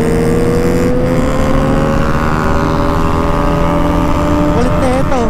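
A Raider 400cc motorcycle revs hard in first gear close by, a loud steady engine howl whose pitch rises and falls, with a person talking briefly.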